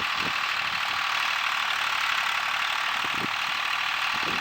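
A farm tractor engine pulling a dirt pan scraper while repairing field erosion, a steady loud mechanical drone with a few low knocking pulses, heard alone.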